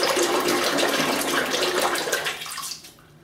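A razor is rinsed under running water from a tap, making a loud, close, steady splashing gush that cuts off sharply at the end, with no voices.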